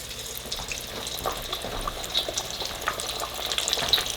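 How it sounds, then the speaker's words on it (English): Navajo fry bread dough frying in hot oil on medium-high heat gives a soft, uneven bubbling sizzle with scattered pops, fairly faint and close. "If you see that it's not frying up fast enough, just turn up your heat a little bit more."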